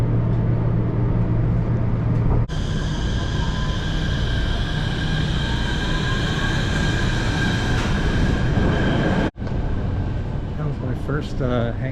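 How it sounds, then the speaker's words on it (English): Ride aboard a hanging monorail train, a continuous loud rumble and rolling wheel noise with faint squealing tones, heard from inside the car, broken by brief gaps, with a voice speaking at times. "First hanging monorail ride."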